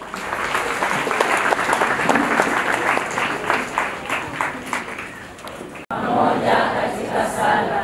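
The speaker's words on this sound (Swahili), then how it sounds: "Tupigie makofi kidogo." Church congregation applauding together at a parish gathering, a dense, steady wash of many hands clapping close by, briefly cut off before resuming just as full.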